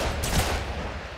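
A sniper rifle gunshot in the video game Sniper Elite 5, a single heavy report with a booming low-end thump and a rolling noisy tail lasting about a second.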